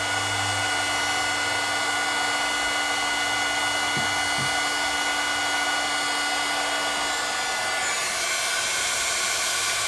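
A heat tool blasts hot air onto shrink plastic in a steady, loud, close whooshing roar with a constant whine, shifting slightly in tone partway through as it keeps running alone.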